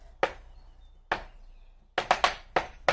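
In an Irish dance treble drill, a weak back foot taps a hard floor: single sharp taps spaced apart, then a quicker cluster of four taps, close by and fairly light, with no talking.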